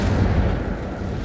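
An Incendio fire spell from Hogwarts Legacy bursts out as a loud, dense, low roaring blast that holds steady for about a second.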